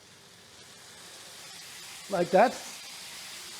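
A short, loud sizzle and hiss as beer is poured onto browned taco meat in a hot pan, two quick bursts of steam near the end after a quiet stretch, with a voice speaking briefly.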